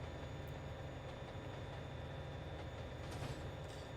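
A computer-generated AI train passes in Trainz Simulator 2, a steady low rumble and wheel noise holding evenly throughout with faint higher squeals, no talk over it.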